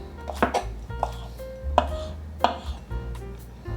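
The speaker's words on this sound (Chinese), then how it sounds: "把香菜切碎" A knife chops fresh cilantro on a cutting board in a home kitchen, giving a string of sharp, close thuds at an uneven pace over a low steady background hum.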